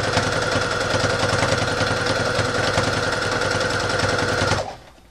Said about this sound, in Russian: Шьем прям по линии нарисованной. Никуда не съезжаем.